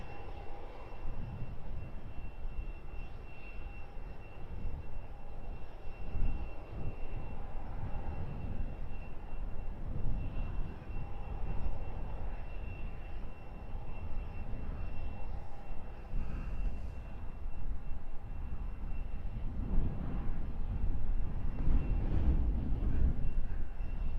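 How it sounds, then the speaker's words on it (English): EasyJet passenger jet on the runway at sunrise, a steady, loud engine roar and broadband rumble that holds for the whole stretch, swelling slightly toward the end, with no talk. "EasyJet flight 2623, destination is Marrakech."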